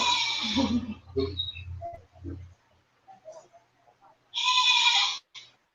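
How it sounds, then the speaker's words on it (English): A goat gives two loud, close bleats, one at the start and a longer one near the end, with faint scattered sounds in the quiet stretch between them. "the goat of LMH vlog is making noise"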